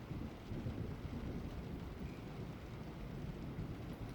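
Steady rain pouring through a stormy night with a low continuous thundery rumble underneath, a dense even wash of sound with no voices.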